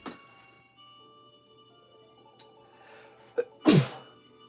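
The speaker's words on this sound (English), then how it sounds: "I got to sneeze really bad." A single sharp, loud sneeze bursts out near the end after a quieter stretch with faint background tones and a small sniff before it.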